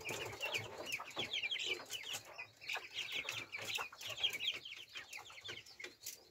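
Young Brahma chickens and chicks fill a coop with soft overlapping clucks and peeping, a busy, fairly faint chatter running steadily throughout without voices.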